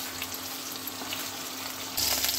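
Fish pieces frying hard on a high flame for a masala curry give off a constant loud sizzle with a low hum underneath, and the frying swells louder near the end.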